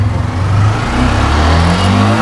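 A brand-new motorcycle engine revs steadily up close, a continuous throbbing drone with subtle pulsing beats and no voices, lasting about two seconds.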